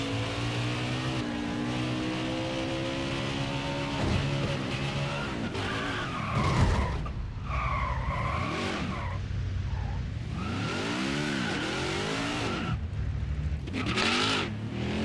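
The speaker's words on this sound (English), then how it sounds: "this is going to be this quick final part of the burnout we always have" A NASCAR Cup car doing a post-race burnout, tires skidding and squealing in long sweeping wails over a steady roaring engine, close and loud, with rising and falling revs throughout.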